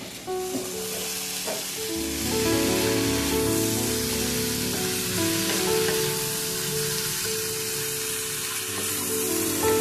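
Cabbage cooking in milk with sugar is stirred in a pan, giving a steady close bubbling sizzle with soft scraping, with faint musical tones underneath.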